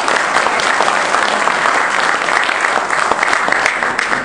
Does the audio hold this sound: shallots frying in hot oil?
no